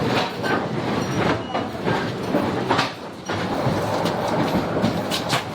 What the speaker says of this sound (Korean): 트램을 탔는데요, 꽤 많이 흔들립니다.